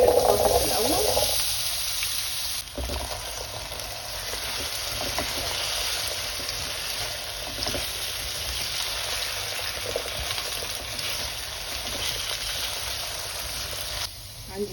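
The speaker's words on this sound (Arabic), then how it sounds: "اشوح البطاطس الاول." Potato cubes fry in olive oil in a pan, giving a steady, close sizzling hiss that runs the whole time, with stirring scrapes and a brief louder burst at the start.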